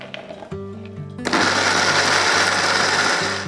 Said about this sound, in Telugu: ఈ మాత్రం సైజులో పీసెస్ కట్ చేసుకొని మిక్సీ వేసుకోవాలి.